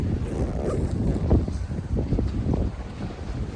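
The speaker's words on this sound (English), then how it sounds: "I'm gonna try to get out of the wind" Wind gusting across a desert campsite near Quartzsite, a steady low roar and buffeting rumble on the microphone with no other clear sounds and no speech.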